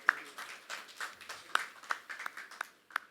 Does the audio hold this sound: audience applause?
yes